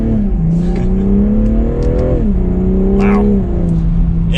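A 2021 BMW M340i's engine pulls hard under acceleration in a manual-mode test drive, its loud steady drone rising in pitch through the gears with short dips at each shift, heard from inside the cabin.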